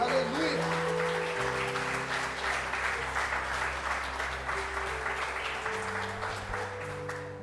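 Church congregation applauding during a sermon, a steady wash of clapping that runs through the whole stretch over sustained organ or keyboard tones in the background.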